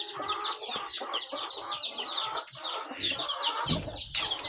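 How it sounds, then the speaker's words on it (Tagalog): Chickens cluck and chatter busily in a coop, with a rooster among them, a dense barnyard chorus of overlapping calls and a few sharp knocks. "yung isang rooster natin na pinapalaki, umuo pa na rin"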